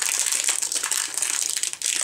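Packaging of a 100 ml Douglas eau fraîche perfume being opened, a close, continuous crinkling and crumpling of wrapping with quick rustling bursts and a brief pause near the end.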